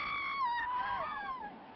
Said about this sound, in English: But with my scream, I heard other screams echoing from the farthest end of the palace.